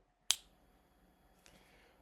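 A single sharp finger snap, close and crisp, followed by a faint second click a moment later in an otherwise quiet room.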